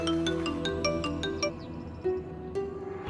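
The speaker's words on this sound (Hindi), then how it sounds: "मुंबई से दादी का फोन।" A phone ringtone plays a bright, repeating melodic pattern of chimed notes, clear and fairly quiet, with no voices over it.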